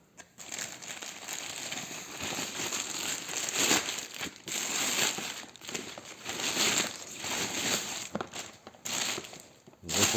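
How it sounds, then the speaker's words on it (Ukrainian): Bubble wrap packing around an HY300 Pro projector crinkles and crackles steadily up close for about ten seconds, in dense irregular bursts with no speech over it. "запакований він в пузирчату плівку"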